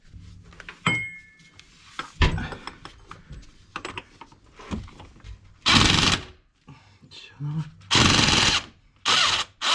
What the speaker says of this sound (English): now I need to unbolt this flange bolt